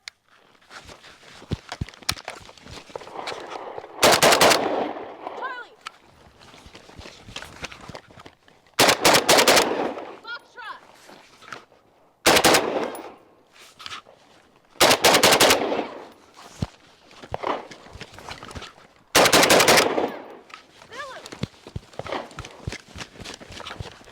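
Arsenal SLR 106F 5.56 rifle fired in five loud bursts of rapid shots, each a dense cluster of sharp cracks, separated by quieter gaps with shuffling and handling noises.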